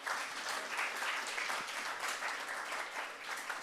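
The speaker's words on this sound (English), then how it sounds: "Round of applause." An audience claps at the end of a presentation on self-driven learning, a dense and continuous round of applause throughout.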